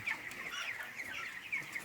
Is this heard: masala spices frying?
no